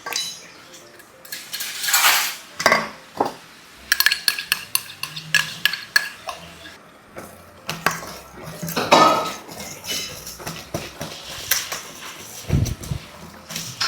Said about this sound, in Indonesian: Kita kocok sampai gulanya larut.